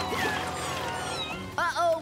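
Cartoon cats in a PAW Patrol episode let out a burst of high, wavering meows near the end, over busy background music and effects.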